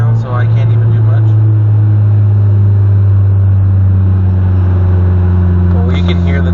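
A manual car with a badly damaged first gear is driven without the clutch, its engine and strained transmission droning steadily with a low hum throughout, and a brief rise in grinding noise near the end.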